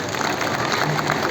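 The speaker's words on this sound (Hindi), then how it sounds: "तालियों की ध्वनि से उनका स्वागत किया जाए।" Crowd at an outdoor political rally applauding to welcome a guest, a dense, steady wash of many hands clapping at once, loud and continuous, with faint crowd murmur beneath.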